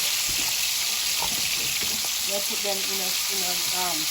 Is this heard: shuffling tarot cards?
no